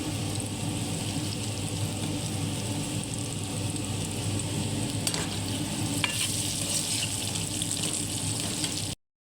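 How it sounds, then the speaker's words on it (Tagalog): Steady, dense sizzling of eggplant frying in hot oil, close and continuous, with occasional faint clinks over the hiss and no voices. "Talong, piniprito ko pa. Para mag-crispy."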